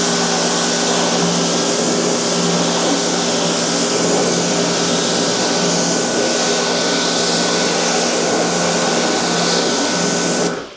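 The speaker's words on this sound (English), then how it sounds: "I prefer a high pressure rinse" High-pressure washer rinsing a car with a Singular coating, its pump and spray giving a loud, steady hiss and hum throughout, close by, cutting off sharply at the end.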